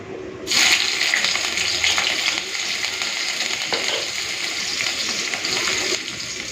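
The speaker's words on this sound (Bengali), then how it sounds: "কড়াইতে সর্ষে তেল দিয়ে গরম করে নিয়েছি এরপর দেব পেঁয়াজ কুচি আর চেরা কাঁচা লঙ্কা" Chopped onions and slit green chillies hit hot mustard oil in a kadai, bursting into a loud, steady sizzle that starts suddenly and continues as a dense crackling hiss until the end.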